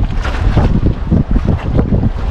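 A boat engine runs out on open water, a loud continuous rumble mixed with heavy wind buffeting the microphone and the wash of water.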